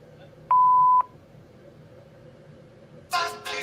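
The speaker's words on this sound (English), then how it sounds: "Please leave a message after the beep" A single steady electronic beep sounds for about half a second, followed by a quiet pause, then a burst of noisy sound.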